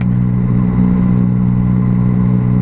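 Steady, loud engine drone and low rumble from a 2017 Yamaha MT-09 motorcycle cruising on the road, continuous and close throughout with no talk.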